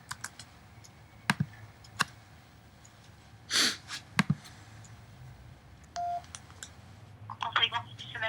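Telephone keypad tones as a call is dialed, a few separate beeps spread out with clicks and a short steady tone near the end, ending in faint breathing and small noises.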